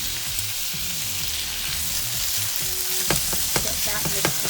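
Sausage sizzles steadily in a frying pan alongside vegetables and tofu in a breakfast scramble, with a few brief scraping knocks toward the end as the pan is stirred.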